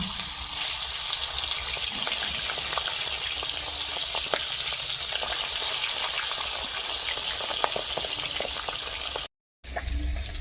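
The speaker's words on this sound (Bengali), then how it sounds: "মাছ ভাজবো তেল গরম হয়ে গেছে মাছ দিয়ে দেবো" Puti fish fry in hot mustard oil in a wok, giving a loud, continuous close-up sizzle with occasional spatter and scrape. The sound cuts out briefly near the end, then resumes.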